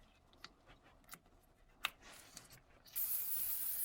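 Brake cleaner sprayed onto rear drum brake components of a Jeep Patriot: a few faint clicks and taps, then a loud, steady aerosol hiss starts near the end and keeps going without a break.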